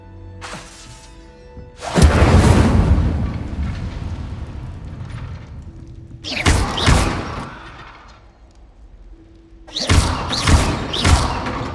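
Fire spells cast in Hogwarts Legacy, heavy whooshing bursts of flame with booming thuds, three loud blasts separated by quieter stretches of crackling and rumble.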